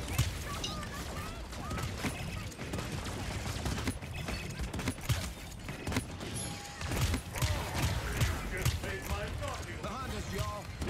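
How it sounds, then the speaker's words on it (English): Rapid gunfire bursts and mechanical clatter ring out in the fantasy shooter game Paladins during a capture-and-defend match, dense and continuous beneath excited player talk. "They're shooting at me."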